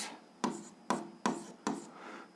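A pen marks out an algebra equation on paper, four short scratchy strokes in an even rhythm, each with a quick scraping attack that fades, close and quiet with no speech.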